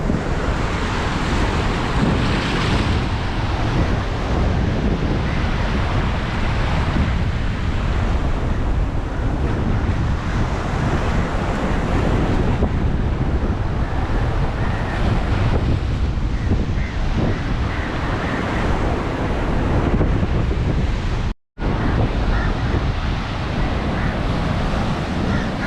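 Ocean waves and wind at a beach, a loud continuous wash of surf with heavy wind buffeting the microphone, broken by one brief dropout near the end.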